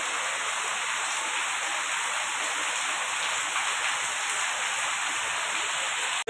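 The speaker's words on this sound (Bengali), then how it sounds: "এই যে কুমিল্লা প্রচন্ড বৃষ্টি হইতেছে এই যে দেখুন বৃষ্টি চলতেছে" Heavy rain pours down in Comilla in a dense, continuous roar, steady and loud from start to finish with no voices.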